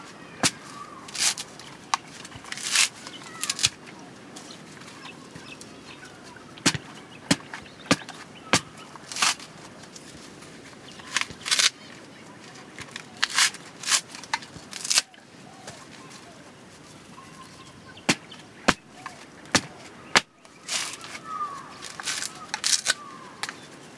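A coconut is husked by hand on a stake, giving repeated sharp tearing cracks and fibrous rips at irregular intervals over a faint outdoor background with occasional voices.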